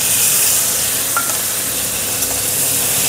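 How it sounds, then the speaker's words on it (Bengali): Paneer cubes sizzle in a pan, a constant bright frying hiss filling the whole stretch with faint stirring scrapes underneath. "পনিরটা ভেজে নেব।"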